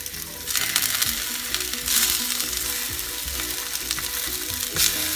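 Meat sizzles loudly as it sears in a hot frying pan for Irish stew, a constant crackling hiss with bursts of spattering, and occasional clinks of a utensil against the pan.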